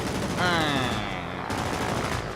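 Rapid machine gun fire from warplanes in the War of Warplanes video game, a loud continuous rattling burst lasting about a second amid engine noise, with a voice heard over it.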